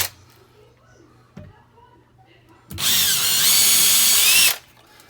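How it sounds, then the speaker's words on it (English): A power drill bores a hole into a drywall wall, with a loud, steady whine lasting nearly two seconds that starts and stops abruptly after a quiet stretch with a few faint handling clicks. "So now I'll just drill holes right underneath those two little spots."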